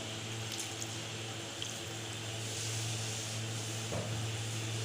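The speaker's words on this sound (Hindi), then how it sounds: "साथ थोड़ा सा पानी डाल के 2" Water runs and splashes steadily into a pot for cooking haleem, a continuous close hiss with faint clinks, no talking.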